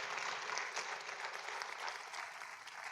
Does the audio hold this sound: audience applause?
yes